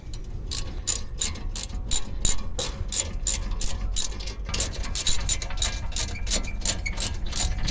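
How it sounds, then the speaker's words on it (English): A ratchet tightens the brake caliper bolts during a front pad change on an Audi A4 B9, sounding as rapid, crisp, evenly spaced clicks up close throughout. "Now you need to push your bolts back through, do them up."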